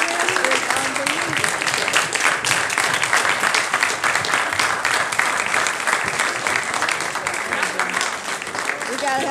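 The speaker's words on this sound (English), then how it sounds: "and here is your own loud clap." Dense, loud applause fills the space continuously, many hands clapping together with cheering voices mixed in, at a white coat ceremony lecture.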